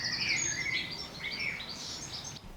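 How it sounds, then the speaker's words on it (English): Bright birdsong in a walled garden in June: several birds twitter and chirp in quick overlapping phrases, fairly faint, over a soft outdoor background without voices. "Filled with birdsong."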